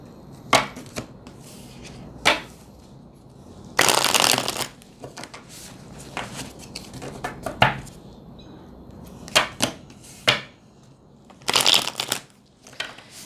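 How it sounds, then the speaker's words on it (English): Tarot cards are shuffled in repeated bursts, with crisp riffling rustles and soft slaps coming in irregular clusters and short quiet pauses between them, close and clear. "As I go ahead and shuffle the cards"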